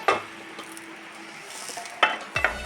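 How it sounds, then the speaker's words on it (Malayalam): An egg fries in a pan with a soft sizzle, while sharp clattering scrapes of a spatula or utensil against the pan come near the start and twice close to the end. "നമ്മൾ വെച്ച മുട്ട നന്നായിട്ട് ഫ്രൈ ആയിട്ടുണ്ട് അത് ഞാൻ എടുക്കാൻ പോവാം"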